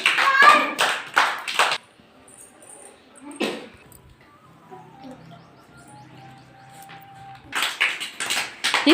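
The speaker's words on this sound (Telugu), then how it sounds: "క్లాప్స్ కొట్టండి." A group of people clap hands during a fish pond game, with a lively burst at the start and another at the end. Pigeons coo softly in the quiet stretch between them.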